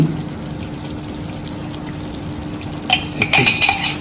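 Ghee poured into a hot pan for shol fish curry, a quiet stretch of low hum before a sudden burst of hissing sizzle and splatter rising in the last second.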